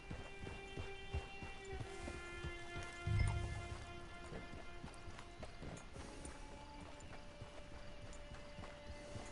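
A horse gallops in the video game Red Dead Redemption 2, with a steady run of hoofbeats kept up for the whole stretch under faint ambient background sound and one brief low thump. No one speaks.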